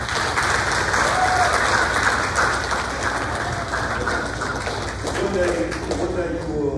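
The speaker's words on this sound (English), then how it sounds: "Students, you need to give your parents a round of applause." A high school academic banquet audience applauds the students' parents with loud, sustained clapping from a large crowd, with voices murmuring faintly beneath it.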